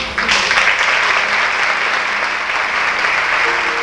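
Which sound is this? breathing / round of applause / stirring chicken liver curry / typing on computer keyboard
round of applause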